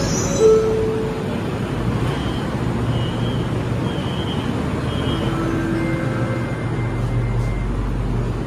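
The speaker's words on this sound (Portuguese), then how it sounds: "Agora a gente vai lá que o trem chegou." Monorail train arriving at a Kuala Lumpur station platform, a steady rumbling drone with faint tonal whines and brief beeps, heard amid general station noise.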